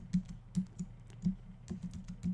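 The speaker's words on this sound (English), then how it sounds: "That's a tab key on the keyboard." Keys clack on a computer keyboard, including presses of the tab key, in a brisk uneven run of about eight close, crisp clicks with no voices.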